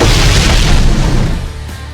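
Loud game bomb blast from Blox Fruits, a heavy close boom with deep rumble that fades out over roughly two seconds, heard alone.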